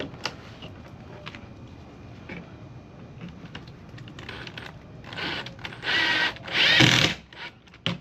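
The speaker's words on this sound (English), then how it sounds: "You drill in there, and then you go all the way down where these little indents are" Quiet clicks and shuffling at first, then several short whirring bursts of a power drill driving screws for a side splitter on a 2013 5.0 car, growing louder toward the end.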